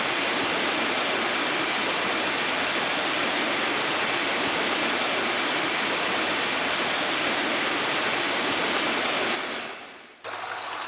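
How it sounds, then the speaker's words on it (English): A steady, dense rush of flowing stream water, like a small waterfall, fills the scene at an even loudness, then briefly dips and resumes near the end. No voices. "give it some nature sounds"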